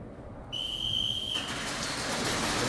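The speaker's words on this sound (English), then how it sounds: "The whistle blows and the match starts." A single sustained referee's whistle blast signals the start of a round at an airsoft speed QB open-class regional championship, loud and steady for about a second over a constant background hiss of the outdoor field.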